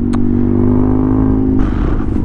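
A custom BMW R100 motorcycle's boxer engine drones loudly and steadily while riding on a countryside road, a deep continuous hum with a rise in tone near the end as it pulls harder.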